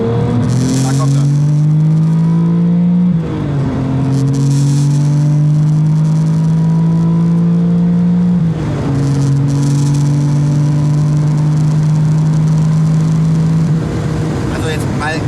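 Porsche 959 with sequential turbocharging, small charger handing over to the large one, pulls hard from inside the cabin: a loud engine drone climbs steadily in pitch through three long runs, each broken by a brief dip at a gear change.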